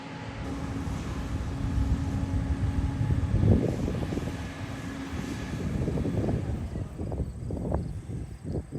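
A combine harvester runs at the start of harvest, a loud, steady mechanical roar with a low hum and a droning whine that swells slightly as its internals engage, no voices over it.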